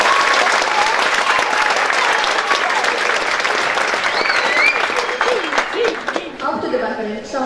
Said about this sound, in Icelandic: Gefum þeim gott klapp fyrir það.